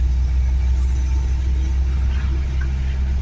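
A Renault 4L is driven at an easy pace, with a steady low engine rumble and road drone filling the cabin without variation.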